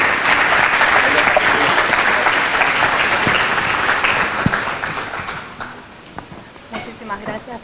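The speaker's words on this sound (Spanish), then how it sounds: "Un fuerte aplauso." An audience at a talk on urban development applauds loudly and steadily, the clapping thinning out toward the end as a few voices and scattered claps remain.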